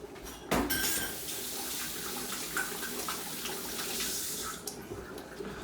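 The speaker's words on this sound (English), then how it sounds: "You can already hear the soup. The soup's already bubbling." Potato leek soup with dissolved chicken bouillon cubes in a pot on the stove, a steady watery wash with soft bubbling and a few clinks of a pot or utensil, no talking.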